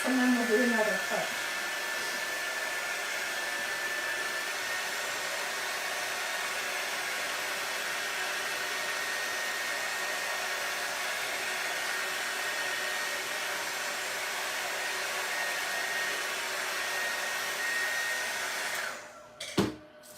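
A hair dryer blows steadily at close range for about twenty seconds while drying paint on an oyster shell, then cuts off, leaving a few handling knocks at the end.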